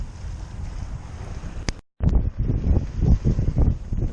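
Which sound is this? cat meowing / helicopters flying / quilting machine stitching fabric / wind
wind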